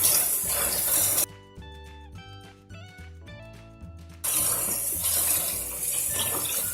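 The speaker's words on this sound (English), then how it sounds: "now I need to rinse and drain them just to make sure that they're clean and get any dirt off" Lentils rinsed and drained under a running kitchen tap: loud, rushing water that splashes for about a second, stops while soft music plays, then gushes again until the end.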